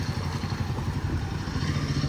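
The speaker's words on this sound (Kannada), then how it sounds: "ಯಾವ ಬೈಕ್ ಬಂದಿದೆ ಹುಡ್ಕೋಣ" Motorcycle engine running nearby on a trail, a steady low throbbing rumble with slight clatter, holding constant without any clear rise or fade.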